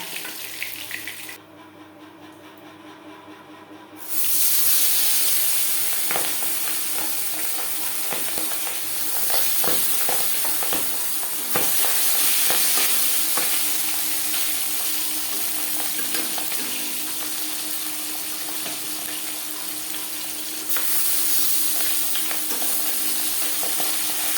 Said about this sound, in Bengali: প্রত্যেক ব্যাচের মাছ একইভাবে ভেজে নেব